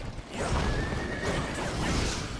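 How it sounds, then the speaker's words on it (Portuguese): A horse whinnies in the snowy Hulaoguan pass battle of the game Wo Long: Fallen Dynasty, a single drawn-out neigh over loud, busy battle noise with faint hoof clatter. "O cavalo dele continua rodando aí."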